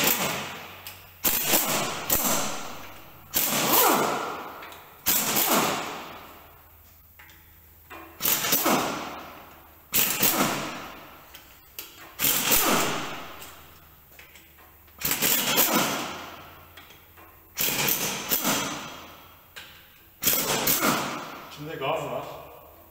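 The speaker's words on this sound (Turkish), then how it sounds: "Burada cıvata çok fazla olduğu için tabancayla sökeceğim bunları." Pneumatic impact wrench removing bolts from a 6-speed gearbox, firing in repeated loud rattling bursts of a second or two, separated by short pauses, close by, with a voice heard faintly in between.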